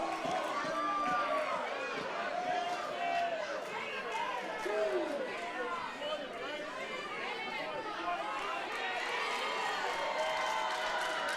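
Spectators at a live wrestling match cheer, whoop and chatter in a steady roar of crowd noise, with excited shouts rising throughout and a commentator's voice running over it.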